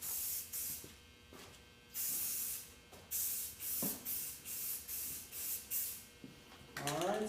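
A spray can lays a coat of paint on a motorcycle helmet in a series of loud, close hissing bursts of varying length, separated by brief pauses.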